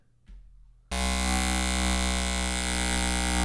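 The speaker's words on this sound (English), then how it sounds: "I found that razor sound, the shaver that I had, just sounds something like this on its own." An electric shaver switches on after a brief click and buzzes loudly and steadily with a rich, even hum that holds to the end.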